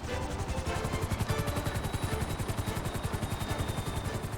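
A helicopter in the video game GTA V thumps steadily with rapid, even rotor beats and a loud engine roar, heard alone.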